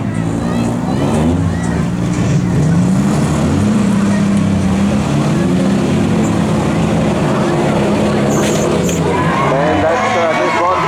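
At a demolition derby at the Coffs Harbour Show in 2018, a Toyota Camry pushes against a stalled Ford XF with a loud, continuous engine drone and straining revs, while a voice talks throughout.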